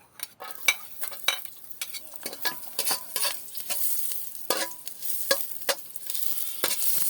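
Onion frying in oil in a pan for a bamboo shoot dish, crackling sizzle broken by frequent sharp spatula scrapes and taps, close and fairly loud, without speech.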